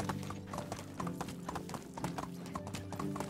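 Donkey hooves clip-clop in the Medieval Dynasty video game, a steady walking rhythm of hollow knocks throughout, close and fairly loud over a constant ambient background, with no speech.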